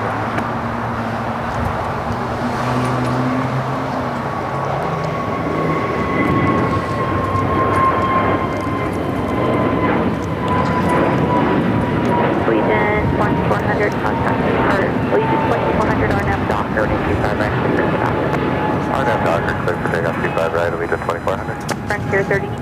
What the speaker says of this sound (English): A350-900 making the left-hand turn onto Bravo as the Asiana A380 makes that final turn